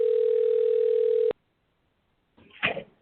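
A steady telephone tone on a radio call-in line sounds loud and alone for over a second, cuts off into silence, then a brief burst of noise follows.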